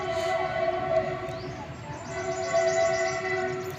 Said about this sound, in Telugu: గూడ్స్ ట్రైన్ ఏదో వెళ్తుంది.